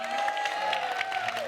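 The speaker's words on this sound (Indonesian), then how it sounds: "Tepuk tangan untuk Izalia." Studio audience applause for Izalia on an Indonesian TV talk show, a steady dense clapping with some cheering, close and loud throughout.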